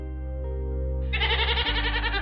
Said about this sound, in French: Cette chèvre a un nom en plus?